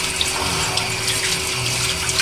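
A kitchen tap runs steadily while hands are washed under it, a close, even rush of water into the sink with faint splashy flutters and no talking.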